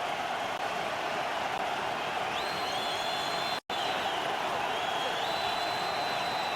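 Steady roar of a large stadium crowd at a 2012 Raiders versus Buccaneers NFL game, a broad continuous wash of cheering and noise with a brief dropout midway.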